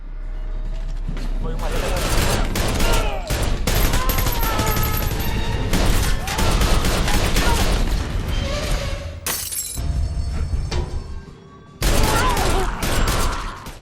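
Twin pistols firing in an action film shootout, loud bursts of gunfire mixed with shattering and mechanical clatter over a dense soundtrack, with a voice speaking and a sudden cut near the end.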